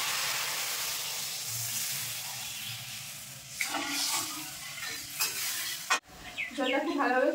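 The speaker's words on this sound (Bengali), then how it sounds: "এবার ঝোলের জন্য জল দিয়ে দেবো।" Mustard paste with green chilli sizzles steadily in a pan for a bhola fish curry, then water is poured in with sudden gurgling splashes and a burst of hissing, followed by bubbling.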